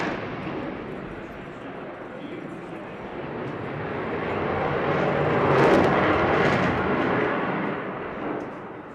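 A jet aircraft pulls a very tight 9G turn at the Eastbourne International Airshow, its loud broadband engine roar swelling in the second half and peaking near the middle before easing slightly, with no talk over it.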